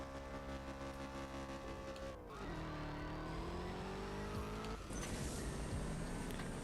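A car driven in the CSR2 racing video game, its engine droning loud and steady, dropping in pitch at a gear change midway, then rising again into a brighter roar near the end, with no talking.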